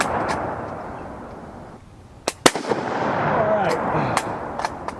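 A rifle fires a French 30-06 FMJ ball round outdoors, giving one loud, sharp crack that is quickly followed by echoes. A few fainter pops come after it, heard over steady background wind.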